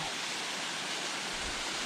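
A waterfall in Tuckerman Ravine, dropping roughly 100 feet or more, gives a steady broadband rush of falling water, constant and moderately distant, with no voices.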